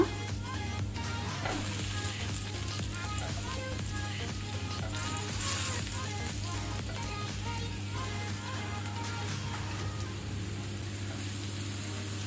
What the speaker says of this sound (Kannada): ಮಶ್ರೂಮನ್ನು ನಾವು ಬ್ರೌನ್ ಆಗುವ ತನಕ ಫ್ಲೇಮನ್ನು ಹೈಯಲ್ಲಿ ಇಟ್ಕೊಂಡು ಸಾಟೆ ಮಾಡಬೇಕು